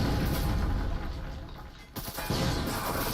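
Grenade blast and gunfire in the competitive VR shooter Breachers, with a dense rumbling roar, a few sharp cracks near the middle and a loud resurgence of firing at the end.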